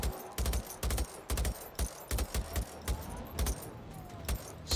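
Shots hit a machine in Generation Zero as a series of about a dozen sharp, evenly spaced reports, each with a short metallic rattle, moderately loud against a quiet background.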